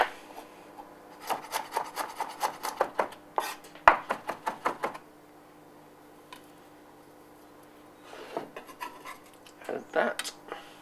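Garlic cloves chopped with a knife on a cutting board for a slow-roasted leg of lamb, a quick run of sharp, evenly spaced taps, a pause, then another short burst of chopping, close and clear.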